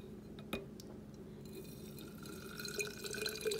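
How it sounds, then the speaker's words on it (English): White vinegar poured into an empty glass bottle that already holds organic lavender, a soft steady trickle of liquid growing brighter as the bottle fills, with a small clink near the start. "And just pour white vinegar into the"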